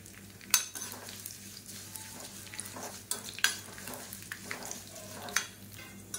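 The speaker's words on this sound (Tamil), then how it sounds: "இது கூடவே ஒரு 5-6 துண்டு சின்னதாக கட்டி பெருங்காயம் அதையும் இதோட இந்த எண்ணெயில் போட்டுக்கலாம். இது எல்லாமே நல்லா பொரியட்டும்." Small lumps of asafoetida frying in oil in a kadai give a soft, steady sizzle, broken by a few sharp clinks and scrapes of a utensil against the pan. No one speaks.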